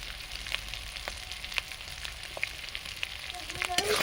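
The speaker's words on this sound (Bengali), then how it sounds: "ভালো করে মশলা আমি কষিয়ে নেব।" Ground turmeric, cumin and nut paste fry in hot oil for a vegetarian Bengali mankochu and potato curry, giving a steady close sizzle with occasional pops and stirring scrapes near the end.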